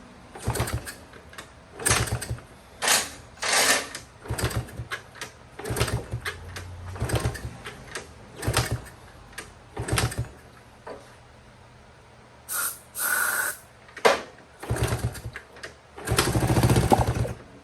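A Honda CT70 K0 motorcycle's small engine sputters and coughs in repeated short bursts while being started, catching briefly between pauses before a longer stretch of running near the end.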